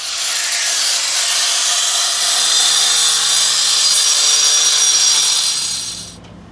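A power saw cuts window openings through a wall framed with 3.5-inch studs, a loud, continuous, close-up hissing whine of blade through material that fades as the cut finishes.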